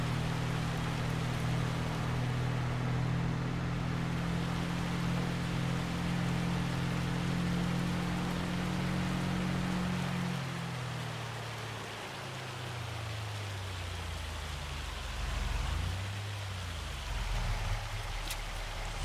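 Steady rain falls in the farming video game Farming Simulator 25, a continuous broadband hiss with a low droning hum underneath that shifts and dips partway through, with no talking.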